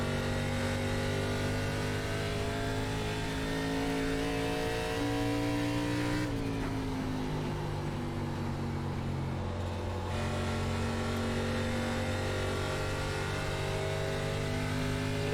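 ARCA race car engine in the iRacing game at Iowa Speedway, a steady loud drone with layered engine harmonics that dips briefly as the throttle eases, then holds continuous for the full stretch with no talk.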